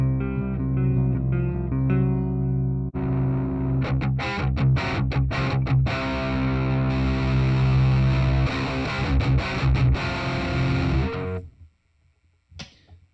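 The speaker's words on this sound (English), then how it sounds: "So what I just did there, I just saved the distortion sound" Electric guitar through a Joyo R-15 preamp house pedal, first a sustained chord then a burst of heavily distorted, crunchy riffing with quick chopped chords, ending in a sudden cutoff and a faint tail; no talking.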